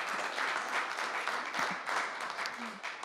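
Audience applause following a poetry reading at an Indigenous poetics event, steady and moderately loud for about three seconds, a broad wash of clapping with no speech over it.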